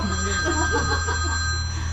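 A high, steady telephone bell rings continuously while faint voices murmur underneath.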